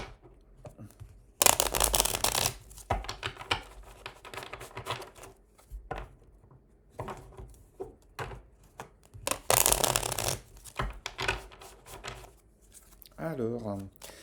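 Tarot cards being shuffled for a reading give two loud, crisp riffling bursts separated by quieter handling clicks and rustles, with a voice speaking faintly in places.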